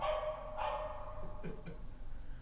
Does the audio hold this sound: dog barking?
yes